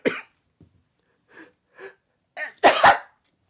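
A person sneezing, close and loud, coming at the end after a few quiet breaths and sniffles, with no speech.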